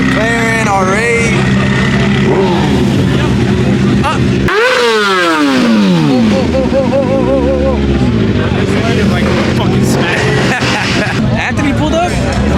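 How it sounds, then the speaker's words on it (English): Supercars including a McLaren and an Audi R8 rev their engines loudly at a crowded car meet, with rising and falling engine notes and a sharp burst partway through. A crowd chatters throughout. "Sounds like a war, bro. Bunch of supercars pulled up. McLaren, R8."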